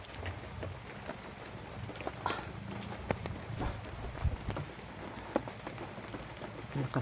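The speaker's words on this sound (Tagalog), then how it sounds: "Lakas talaga ng ulan dun." Steady, dense rain pattering on a surface with scattered heavier drops and a constant hiss, no voices.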